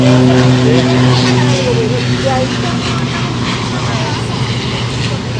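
A seaplane comes in to land on the water, its propeller engine droning loud and steady at a moderate distance, with people talking over the noise.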